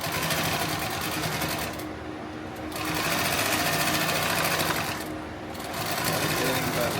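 A sewing machine runs in loud, rapid bursts as it stitches fabric for a tactical plate carrier. The near, steady whir drops twice in brief pauses and then picks up again.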